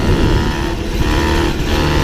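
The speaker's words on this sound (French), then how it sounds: "Elle marche bien, on entend bien le pot d'échappement." A 1985 Motobécane 51 V moped runs close by, its small two-stroke engine and exhaust giving a steady, loud buzzing drone with slight wavering in pitch, with no voices.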